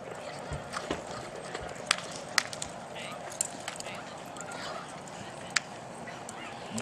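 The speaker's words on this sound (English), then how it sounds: "Oh, horses." Horses run in a barrel racing arena, hoofbeats thudding steadily at a distance under crowd noise and an arena announcer's talk, with a few sharp louder hits.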